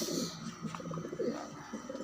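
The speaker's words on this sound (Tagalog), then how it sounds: "Andalusian yata ito kalapatids." Andalusian pigeons coo in low, rounded, repeated phrases, close and fairly clear over a steady background hum.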